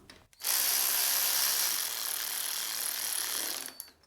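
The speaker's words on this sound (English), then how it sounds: "So now we can just hand thread in our head bolts. Snug those down." A hand ratchet snugs down the cylinder head bolts on a John Deere riding mower's Briggs and Stratton engine, giving a close, fast, continuous clicking run that lasts about three seconds before stopping.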